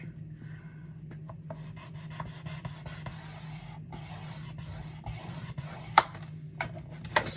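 Paper being scored a quarter inch in for a handmade photo journal: a faint, steady scratching and rubbing, quiet and close, with a few light taps and no talk.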